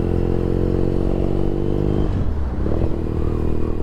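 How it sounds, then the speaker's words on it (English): Motorcycle with a loud exhaust riding at speed, a continuous close engine drone and wind roar with a brief dip in tone partway through, no talking. "We're riding at speed. A relatively loud exhaust on this bike."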